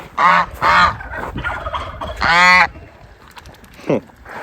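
A goose honks loudly and close by at a bass pond, several harsh calls in a row, followed by a shorter honk after a brief pause.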